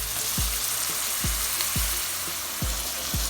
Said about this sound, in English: so now I'm adding the peppers, the onions, and the garlic